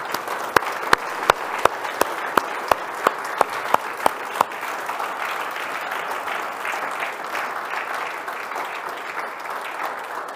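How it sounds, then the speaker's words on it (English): Church congregation applauding at an Easter service, a steady crowd clapping with one loud, sharp rhythmic clapper standing out in even beats over the first few seconds before blending into the general applause. "Let's give him one big applause, shall we?"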